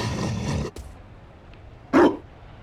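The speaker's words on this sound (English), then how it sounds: "You found a dog." A Mabari war dog in Dragon Age: Inquisition gives a single short, moderately loud bark after a stretch of quieter ambient noise and a brief soft thud.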